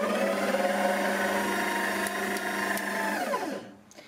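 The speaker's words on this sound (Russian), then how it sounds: "И начинаем замешивать тесто." A stand mixer kneading bun dough runs with a steady motor hum and rhythmic churning, close and loud, then winds down and stops near the end.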